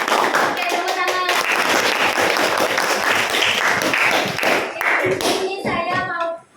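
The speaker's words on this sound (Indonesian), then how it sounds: "Oke, tepuk tangan." A class of pupils claps together, a dense burst of hand clapping mixed with children's voices calling out, loud and continuous before cutting off abruptly at the end.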